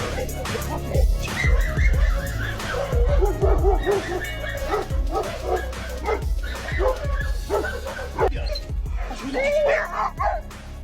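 Several dogs bark and yip in quick, overlapping bursts with some whimpering, loud and close, while a person talks over them throughout.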